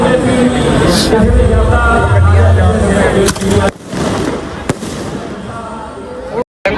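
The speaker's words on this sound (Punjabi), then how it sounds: "ਉਧਰ ਵੀ ਪਟਾਕੇ ਵੱਜ ਰਹੇ ਨੇ" Loud crackling bangs and sharp pops from firecrackers burst outdoors at a Dussehra celebration in Kurali, amid crowd chatter and voices, with a few distinct cracks standing out near the end.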